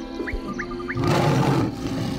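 The Tiger King roars in the Wildcraft Halloween update, a loud close burst of roaring after a few short in-game chirps, filling the second half of the clip alone.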